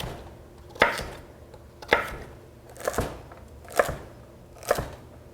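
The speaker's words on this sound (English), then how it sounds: "And for the celery, I like to cut in half just to make it easier. We'll cut those into sticks." Knife chopping halved celery into sticks on a cutting board while prepping jambalaya: five sharp, evenly spaced chops about a second apart, close and distinct.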